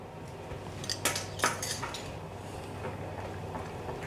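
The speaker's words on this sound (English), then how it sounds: "Let's give it a good mix" Lemon glaze of lemon juice and vanilla paste being mixed in a bowl, close clinking and scraping of a utensil against the bowl, a few sharper taps, fairly quiet and continuous.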